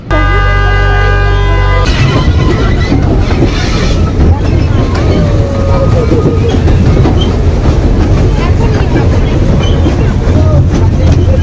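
A toy train at Nicco Park amusement park in Kolkata rumbles along with a steady rattling clatter after a brief tonal tone at the start, loud and close with some wind noise.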